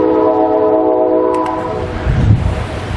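A train passes in the distance near Kennesaw, its horn sounding as sustained tones, then a low rumble swelling toward the end, heard alone without talk.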